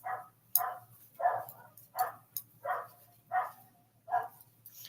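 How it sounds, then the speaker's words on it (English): A dog barks over and over at a steady pace, about seven sharp barks close by, with a low hum running underneath. "You could probably hear the dogs barking."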